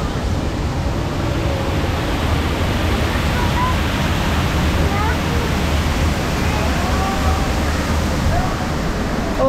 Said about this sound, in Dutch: We gaan de waterval in.